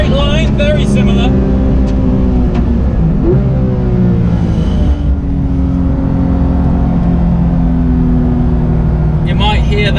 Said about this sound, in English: You might hear that slight tyre squeal